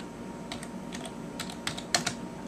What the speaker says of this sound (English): My terminal is open here, so I'm going to type in some commands.